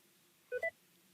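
QuickBooks accounting software gives a short two-note confirmation beep, clean and electronic, played once against near silence.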